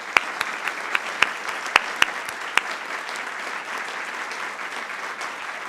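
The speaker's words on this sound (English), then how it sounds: "And now a round of applause, please, for our two candidates," A debate audience applauds the two congressional candidates, a steady wash of clapping with a few sharp, louder individual claps standing out near the start, continuing evenly without talk.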